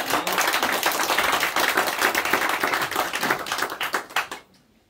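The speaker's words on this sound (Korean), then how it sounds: "우리 하나님께 영광의 박수를 올려드리겠습니다" A church congregation applauds during a Pentecost Sunday morning worship service, with dense, sustained clapping from many hands that fills the space and then fades out abruptly near the end.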